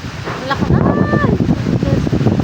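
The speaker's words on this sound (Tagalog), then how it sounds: "Ang lakas ng hangin." Strong typhoon wind gusts and roars against the microphone in a rural farm area, with a voice talking over it and a brief whistling tone partway through.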